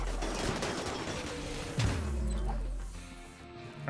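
Gunfire erupts during a RimWorld colony raid, a dense fusillade of shots under a rumbling low background, with one sharper burst near the middle before the firing fades out.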